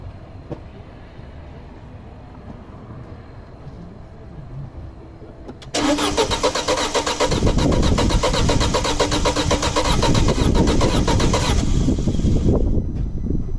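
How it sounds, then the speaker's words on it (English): A 2006 Audi A4 2.0T engine with a misfire cranks briefly and then catches, settling into a loud, steady running rumble close by after a quiet stretch. "So start this up, we'll go crank it."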